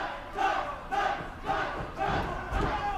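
A wrestling fan section at an IWC event yells and cheers in rhythmic bursts, roughly every half second, a rowdy crowd chant rising and falling close by.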